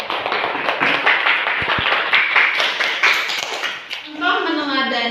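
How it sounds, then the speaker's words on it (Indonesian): Students in a classroom clap together for a classmate, a steady patter of many hands under a teacher's speech, followed by the teacher talking again near the end. "coba beri tepuk tangan dulu kepada temannya"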